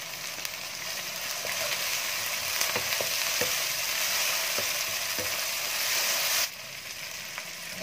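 Banana peppers sizzle and fry in a pan with shrimp for a Javanese sambal goreng, a loud, steady hiss punctuated by light clicks of stirring, then the sizzle abruptly drops to a quieter crackle near the end.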